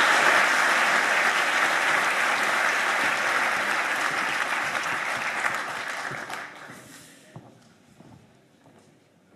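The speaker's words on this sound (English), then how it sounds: "I'd like everyone to give a very warm round of applause to our speakers and our president." Warm audience applause at a university academic year opening ceremony, sustained even clapping from a large hall that holds for several seconds, then thins out and fades to a few scattered claps.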